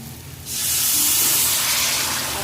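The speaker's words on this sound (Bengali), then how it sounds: "জল দেবো আর একটু জল দেবো" Water is poured into a pan of frying potatoes and bursts into a loud, sustained hiss and sizzle after a brief quiet moment, steady throughout with no voices.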